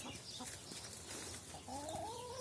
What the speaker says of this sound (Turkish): Çok şükür kümesimizde artık bir de horozumuz var.